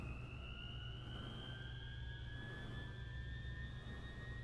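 Airbus A320 cockpit systems whirring up after the batteries are switched on, two steady tones slowly rising in pitch over a constant low hum, faint and continuous.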